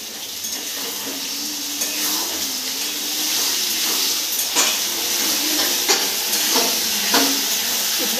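Tomato sauce, chili sauce and soy sauce mixed together and poured into a hot pan hiss and sizzle steadily, with a few louder sputters and scraping stirs breaking through the continuous frying noise.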